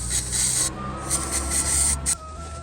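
A towel soaked in brake cleaner rubs over a car's gearbox linkage bushing, giving close, dry scrubbing and rasping strokes in short bursts with a few brief pauses.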